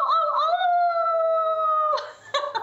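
A person imitates a corgi howl with a sustained, wavering vocal howl lasting nearly two seconds, followed by a few shorter yelping bursts, loud and close with no other talk.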